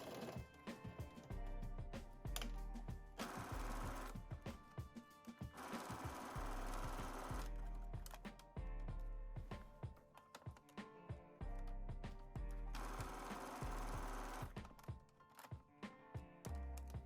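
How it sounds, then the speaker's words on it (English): Sewing machine stitching a jumpsuit seam, bursts of rapid mechanical whirring and clatter separated by short pauses, close and fairly quiet. "Now you're going to stitch 5/8 of an inch from the top to the top of the crotch."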